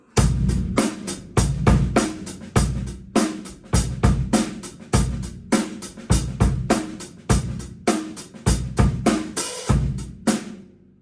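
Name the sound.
drum kit rock 4-bar phrase with hi-hat opening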